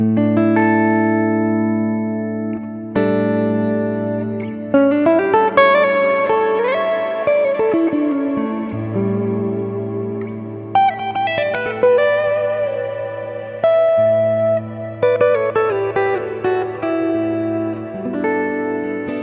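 Guitar played through an Alabs Cetus reverb pedal rings out in sustained chords and single notes with long, lush washy tails that bloom and overlap, loud and close, with no talk.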